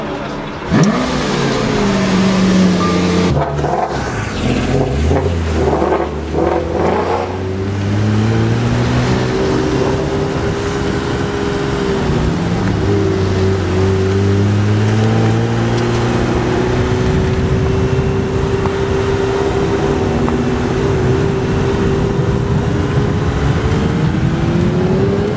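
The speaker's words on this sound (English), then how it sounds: "That was a flat 6 natural aspirated GT3 with Acra exhaust." A Porsche GT3 with a naturally aspirated flat-six and Akrapovic exhaust revs hard at a supercar gathering, loud rising and falling engine sweeps with a sharp blip early on, then sustained high revving passes.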